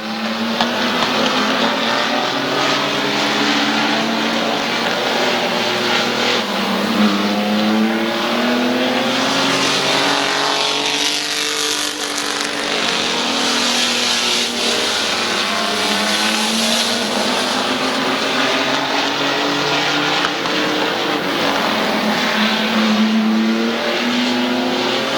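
Race cars roaring around the oval at Midvale Speedway, engines droning continuously at close range with rising and falling pitch sweeps as cars pass, plus faint tire noise, steady and loud throughout.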